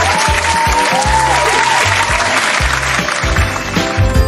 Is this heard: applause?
yes